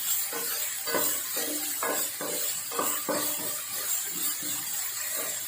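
Onion, ginger and garlic sauté in a pan for vegetable soup, a steady hiss of frying under repeated scraping and clinking strokes of a spoon stirring the mixture, close and moderately loud.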